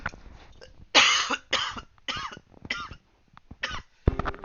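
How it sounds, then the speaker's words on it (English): A person coughs repeatedly up close, a string of harsh, wet bursts spaced about half a second apart, with a short throat clear between them and no speech. "I just want to stop with the coughing."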